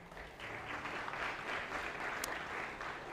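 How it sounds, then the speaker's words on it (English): Applause for the ring bearer during a wedding ceremony, a steady moderate round of clapping from the guests, heard alone without talk. "let's give him a round of applause,"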